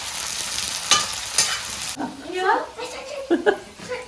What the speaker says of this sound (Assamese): কেঁচা জলকীয়া দিয়াৰ লগে লগে পিঁয়াজখিনি দি দিছোঁ একদম তেলটো ধুনীয়া গৰম হৈ আছে